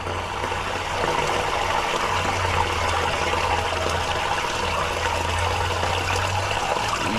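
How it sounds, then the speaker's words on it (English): Water from a sink and laundry draining into a blocked drain, a steady loud rushing and gurgling flow that continues unbroken throughout with a low rumbling undertone. "we're draining the sink and the laundry"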